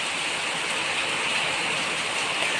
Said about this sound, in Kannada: ನೋಡಿ, ಎಷ್ಟು ಜೋರಾಗಿ ಮಳೆ ಸುರಿತಾ ಇದೆ